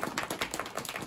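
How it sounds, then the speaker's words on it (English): Hands slapping on legs at a storytime session, a rapid patter of soft, fairly close claps in an even rhythm, with no talk. "We can clap on our legs."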